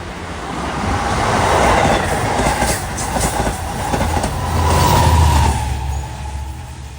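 An LIRR commuter train pulls into Queens Village station, a loud, steady rumble of wheels and cars rolling past up close, with rhythmic clicking over rail joints and a faint squeal.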